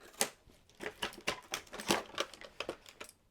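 Scissors cut open stiff blister packaging for a Zuru X-Shot Turbo Fire dart blaster, giving a quick run of about a dozen close, crisp snips and crinkles in an uneven rhythm with no talk.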